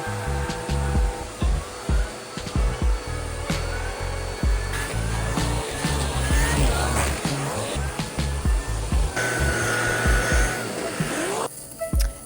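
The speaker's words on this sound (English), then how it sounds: "I'm vacuuming every section, getting into all the creases and corners" A vacuum cleaner is used across an apartment's furniture, working into creases and corners. It runs as a steady whine broken by repeated bumps and knocks as the nozzle moves, and it cuts off near the end.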